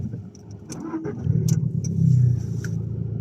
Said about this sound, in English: I've always thought starting this car up isn't too loud